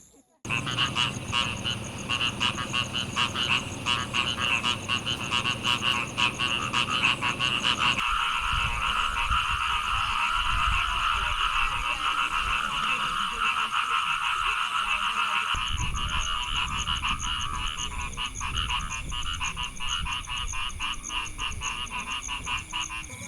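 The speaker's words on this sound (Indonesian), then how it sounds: "ditemani oleh suara kodok yang berorkestrasi dengan suara binatang lainnya" A dense chorus of frogs croaking steadily at night at a campsite, layered with high insect-like trilling, continuous and fairly close with no voices.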